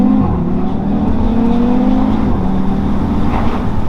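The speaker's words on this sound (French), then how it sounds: "Ça fait moins de bruit que les anciennes, t'as toujours cette sensation du 5 cylindres." A 400-horsepower Audi TT RS five-cylinder engine revs loudly and close up, a steady, smooth drone whose pitch climbs and settles with no talk over it.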